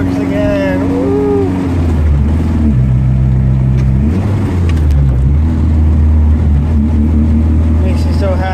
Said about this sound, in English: Guys, it's working. We're moving. We're driving.